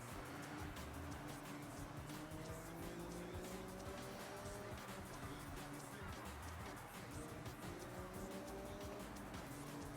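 A car in the racing video game Forza Horizon 6 sweeps through a turn, a dense engine drone with rising pitch sweeps under constant game noise, heard alone.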